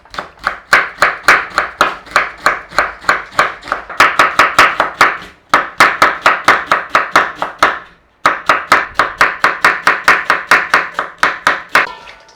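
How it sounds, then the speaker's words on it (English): A knife thinly slices red cabbage on a cutting board in fast, steady chops, about three strokes a second, loud and close, with two short pauses before a final rustle as the slices are pulled apart. "All we gotta do now, thinly slice, any which way you want."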